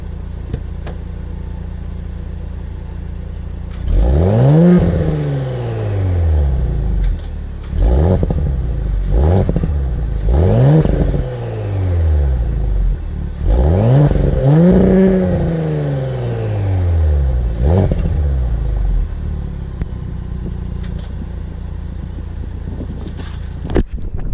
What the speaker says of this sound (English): that's the sound of the stock exhaust